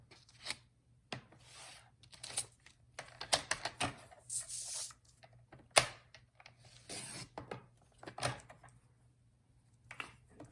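Yellow card stock is cut for a handmade card, producing quiet, irregular scraping and clicking strokes close by, with short bursts and pauses between.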